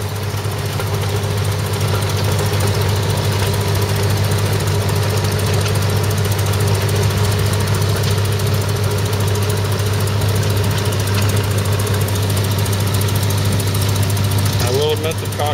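An antique International tractor engine roars steadily at close range at an antique machinery show, a loud continuous rumble with a knocking throb, holding an even pitch throughout.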